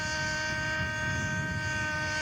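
A scale model PT-17 biplane fitted with a Cirrus OS radial engine drones steadily at an outdoor scale aircraft show, a sustained buzzing tone with strong harmonics, moderate in level and without talk.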